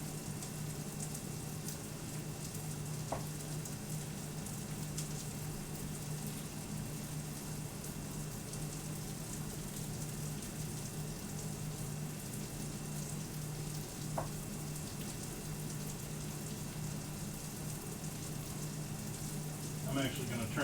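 Onions in a hot pan while cooking pork city chicken with potatoes and green beans, a steady hissing sizzle throughout, with a couple of faint clinks and a light stir near the end.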